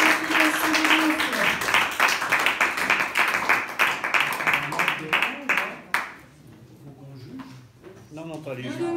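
Audience applause for a slam duo taking the stage at a slam poetry event in Tours, a dense round of clapping for about six seconds that fades into murmured chatter and voices.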